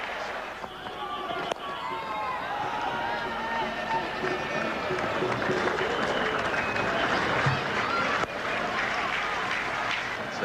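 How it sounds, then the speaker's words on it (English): A cricket crowd at Sharjah applauds a team total of 250 during the 1998 Coca-Cola Cup final between Australia and India, a steady distant roar of clapping under continuous commentary. "Just a little bit of applause, acknowledgement of the fact that this 250 is a milestone"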